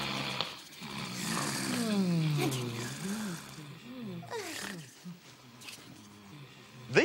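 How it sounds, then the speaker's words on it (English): Loud, rasping snores come in long drawn breaths, several in a row with rising and falling pitch, comic and cartoonish, in a children's craft-show setting. "Who's that snoring?"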